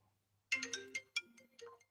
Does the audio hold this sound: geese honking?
no